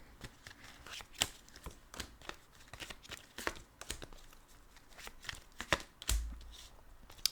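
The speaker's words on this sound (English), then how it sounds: "Let me just lay out the cards here, right?" Tarot cards being laid out on a table, with soft, irregular slaps, slides and crinkles of card stock close by, quiet and without talking.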